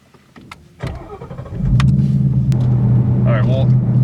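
2016 Ford Mustang GT Performance Pack V8 cranking and firing up: faint clicks, a rising whir, then a loud, steady idle rumble close by, with a brief voice over it near the end.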